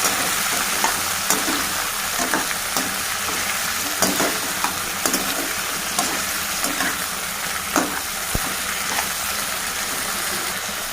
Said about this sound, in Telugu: మెంతులు ఆనియన్ టమాటా వేసేసాను ఇంత బాగా కలుపుకోవాలి